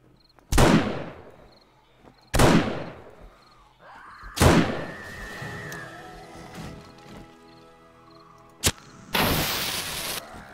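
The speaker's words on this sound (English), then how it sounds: "Enjoy the pipe bomb, ma'am." A string of loud, sharp blasts in 7 Days To Die as a pipe bomb goes off during horde combat, four big booms a couple of seconds apart, each followed by a ringing decay, then a final roaring burst.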